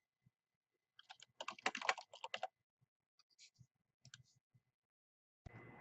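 Dates are typed into an Excel spreadsheet on a computer keyboard, giving a quick burst of clicky keystrokes, then a few scattered taps, close and fairly quiet.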